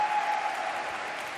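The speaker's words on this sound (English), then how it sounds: "Big roar from the crowd." Brief burst of crowd roar and applause in an arena during a men's gymnastics team final at the 2019 Napoli Universiade, a loud steady wash of cheering and clapping.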